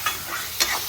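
Chopped tomato and onion frying in a pan for an oyster masala, a brief burst of soft sizzle with a quick stirring scrape near the end.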